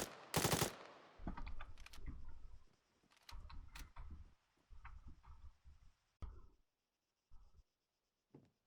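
Gunfire from the military shooter Arma 3: a couple of loud sharp shots at the start, then scattered bursts and single reports of varying loudness, some nearer, some farther off, with quiet gaps toward the end.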